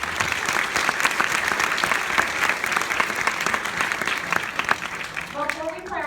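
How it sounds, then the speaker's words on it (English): Steady, dense applause fills the room from a parents' audience at a Heritage Middle School sixth grade band concert, holding even throughout and tapering slightly at the very end. "Let's give them a round of applause."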